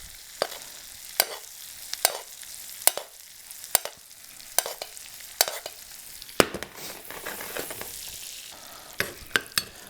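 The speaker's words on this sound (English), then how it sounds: "That butter nice and foamy. continuously basting those breasts." Partridge breasts basted in foaming butter in a pan make a steady close sizzle, with sharp spoon clicks against the pan recurring every second or so.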